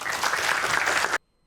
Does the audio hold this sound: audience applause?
yes